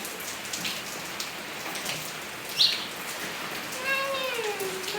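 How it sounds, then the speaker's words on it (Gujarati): Steady rain falls throughout, a dense even hiss of drops on surfaces, with a brief bird chirp partway through and faint background voices. "કાલ હાંજનો વરસાદ હાલે છે"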